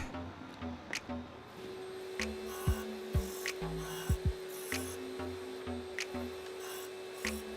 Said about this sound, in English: I set up my whole system with shop vac, dust separator and sander and went to town.